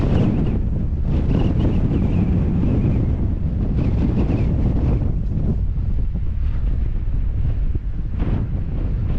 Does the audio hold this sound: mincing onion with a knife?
no